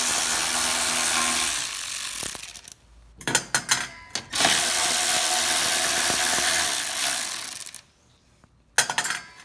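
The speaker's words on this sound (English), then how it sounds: "Use a 10mm wrench." A 10mm wrench works bolts off the carburetor of a Troy-Bilt Storm 2620 snow thrower, giving close, loud metallic rattling and clicking in long bursts broken by short pauses and a few sharp clinks.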